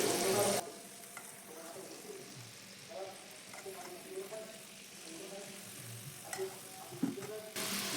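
Malpua batter is ladled into hot oil and fries with a soft, steady bubbling sizzle, low and close, along with faint clinks and small handling sounds; louder broadband bursts open and close the stretch.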